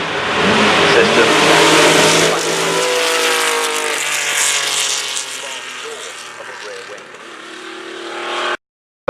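Race car from the Goodwood Festival of Speed, a McLaren with an exposed exhaust system originally powered by a Ford HB Cosworth engine, roars loudly past with a revving, accelerating engine that fades toward the end.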